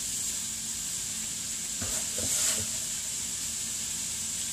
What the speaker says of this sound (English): the last thing we're going to add is a little bit of these greens and let them cook down and wilt